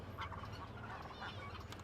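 A flock of about two dozen large ducks on a farm, soft overlapping quacks and calls over a low steady background hum, fairly faint and continuous.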